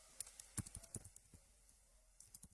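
Faint, scattered clicks of typing on a computer keyboard, a few quick keystrokes in short bursts separated by pauses, quiet and close.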